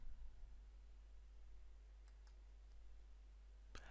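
A quiet, faint mouse click sounds near the end, preceded by a couple of tiny ticks over a steady low hum and hiss.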